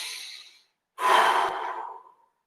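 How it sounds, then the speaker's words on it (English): Two deep breaths during a guided sensory exercise, a short exhale first and then a longer, louder sigh-like breath that fades out, close and alone with no talk. "Nice deep breaths."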